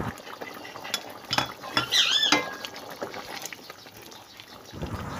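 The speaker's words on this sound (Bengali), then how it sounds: "ঢাকনা খুলে এর মধ্যে আমি এবারে ঘি ও গরম মশলা দিয়ে অল্প নাড়াবো।" A spoon stirring ghee and garam masala into a curry of dal, egg and steamed lentil dumplings in a pot, scraping and clinking against the metal in a few close strokes over a steady background hiss.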